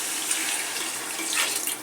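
Measured water poured into a pot of rice, a short steady splashing stream, close and moderately loud, with no talk.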